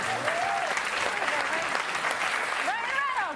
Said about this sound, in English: Look at all the people applauding